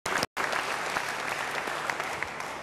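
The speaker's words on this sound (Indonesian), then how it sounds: "Beri tepuk tangan yang baik." A church congregation at a revival service bursts into steady, dense applause. The clapping is loud and continuous, with a brief gap near the start, and carries on without talk.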